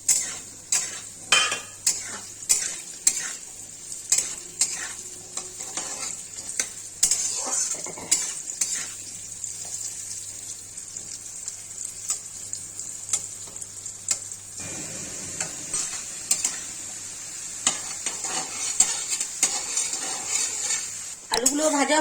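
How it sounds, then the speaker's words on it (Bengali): Potatoes fry in hot oil in a pan while a utensil repeatedly scrapes and clinks against the metal in uneven bursts over a steady sizzle, close and clear, with occasional quieter knocks; no talking. "এবার আমি তেল দিয়ে দিচ্ছি। এবার আলুগুলো ছেড়ে দিচ্ছি।"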